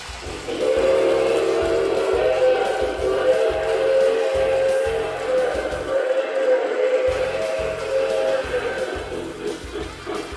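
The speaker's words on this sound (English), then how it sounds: "has the MPC era mighty sounding steam, chuffing, and whistle" An O gauge model steam locomotive sounds its whistle in a long, steady chord over rhythmic chuffing, with a brief pause before the whistle resumes.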